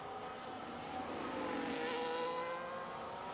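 Red Ferrari race car in a sim racing game, its engine a steady whining drone with slowly shifting pitch, sustained and fairly even in level, with no talk over it.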